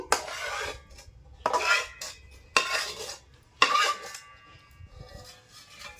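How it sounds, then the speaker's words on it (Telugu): A utensil clinks and scrapes against a bowl or pot while cooked tamarind is mixed into amla chutney, several sharp metallic strokes separated by softer stirring, close and without talk. "నూనెలో ఉడికించి పెట్టుకున్న చింతపండుని కూడా వేసేసుకుందాము."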